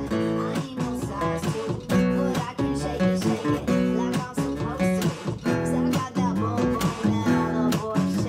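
Acoustic guitar strums the chords of a song in a lively, steady pattern with percussive accents, played up close and clear, without talking over it.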